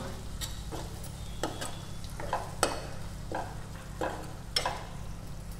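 A spoon scrapes and stirs agri masala and garam masala in a pan for shev bhaji, making about eight distinct rhythmic scraping strokes over a quiet low hum and faint sizzle, with no talking.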